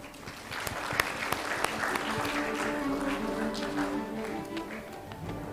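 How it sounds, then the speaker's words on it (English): Audience applauding a presenter at an international conference on sustainable cereals and crops production, steady moderate clapping from a room for several seconds, somewhat distant, with faint voices underneath. "let's give a big applause to the presenter"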